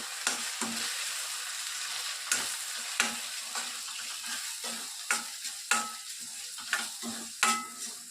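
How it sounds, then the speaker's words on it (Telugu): Brinjal and tomato curry with a spoon of chili powder being mixed in a pan, irregular scraping spoon strokes over a soft steady sizzle, close and fairly quiet, with no voices. "చూడండి ఇప్పుడు ఒకసారి బాగా కలిపేసుకోవాలి."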